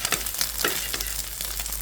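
Two eggs fry in a pan for a lentil and egg dish, a loud close sizzle with crackling spits and a couple of stirring scrapes, no voices.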